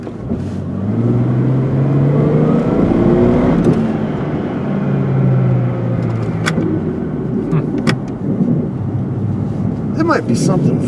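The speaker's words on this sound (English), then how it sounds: "If you go to low, we can really make it hum." Old, rusty Jeep engine revving hard in low gear, a loud continuous rumbling drone with rising and falling pitch, with occasional rattling clunks and voices talking over it.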